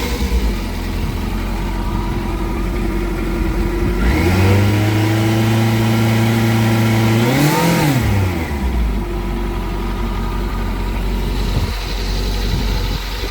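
A 2011 Kawasaki Concours 14 motorcycle engine idles steadily up close, then revs up into a sustained higher-pitched drone for a few seconds, peaks briefly, and drops back to a smooth idle.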